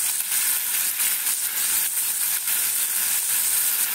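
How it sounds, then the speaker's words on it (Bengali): Shrimp fry lightly in hot oil in a pan, giving a steady, close crackling sizzle with soft popping and no voices over it. "তেলটা গরম হয়ে গেছে। আমি চিংড়ি মাছটাকে একটু ভেজে নিই হালকা।"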